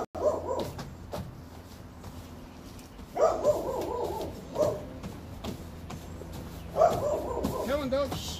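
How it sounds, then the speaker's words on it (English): Dog barking at an outdoor shooting match, a few short bursts of barks and yips at intervals, with someone talking in between. "No, dog, don't start now."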